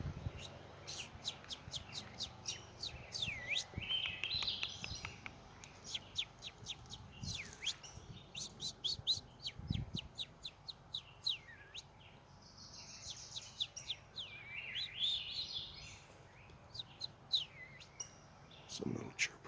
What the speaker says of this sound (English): Some little chirper right around us here, saying hello.